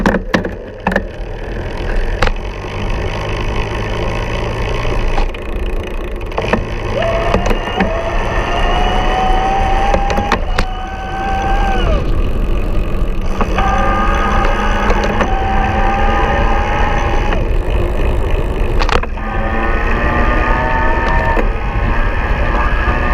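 A Trek Lift+ Lowstep e-bike's electric motor whines as it rises through increasing assist levels, giving a steady close hum with a pitch that climbs and shifts, riding over continuous road and wind rumble and punctuated by occasional clicks and knocks.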